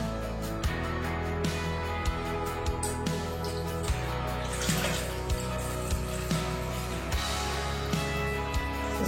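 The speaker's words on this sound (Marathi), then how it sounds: "त्यातलं मी पाणी काढून घेणार आहे।" Water is drained off washed pumpkin pieces, a steady wet splashing and trickling close by, with light clicks and knocks at intervals and no talk.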